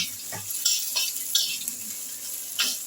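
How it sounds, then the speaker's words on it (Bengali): Ginger paste and green chilli fry in a pan for a vegetarian bottle-gourd dal, giving a steady close sizzle broken by several scraping stirs of a spoon. "আমি একটু আদা বাটা দিলাম আদাটা আমার ভাজা হয়ে গেছে একটু কাঁচা লঙ্কাও দিয়ে দিলাম"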